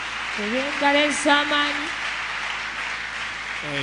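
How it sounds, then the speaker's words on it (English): A congregation claps its hands at a church Cross-Over Night conference service, a steady wash of applause running throughout while a voice speaks over it. "clap your hands and appreciate the Holy Ghost"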